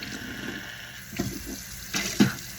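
Water trickles from a tap into a bathroom sink at close range, a steady soft flow with a few splashes and clinks.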